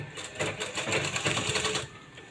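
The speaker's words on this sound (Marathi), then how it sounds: "पाव इंच अशा पद्धतीनं फोल्ड करून शिलाई मारून घ्यायची आहे पूर्ण पट्टीला" A sewing machine stitches along a folded blouse piping strip, running in a fast steady rhythmic chatter up close for about two seconds before easing off.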